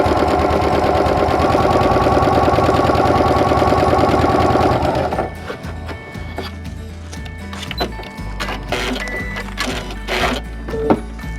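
Sewing machine stitching a hem, a fast rapid rattling motor-driven chatter for about five seconds, close and loud, then stopping into quieter clicks and handling of fabric and the machine.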